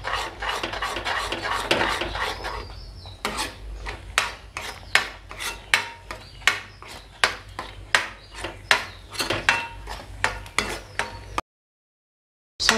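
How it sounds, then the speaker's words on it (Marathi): A spoon scrapes steadily through thick besan zunka as it cooks in a pan, giving a regular rasping stir roughly twice a second, close and fairly loud, with no talking, before a brief silence at the end. "तोपर्यंत आपण ते हलवत राहू।"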